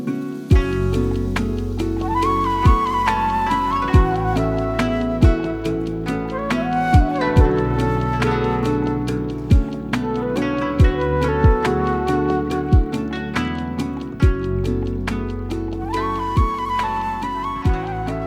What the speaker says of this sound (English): make Oriental lo-fi track that sounds something